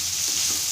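Fried rice with petai being stirred in a hot pan, giving a steady loud sizzle with soft scraping and stirring movements underneath, and no voices.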